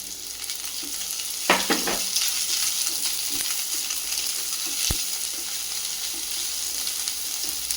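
Capsicum stir-fried over a full gas flame for restaurant-style chili paneer: a steady, close sizzle of hot oil with a few sharp clatters of the spatula against the pan early on.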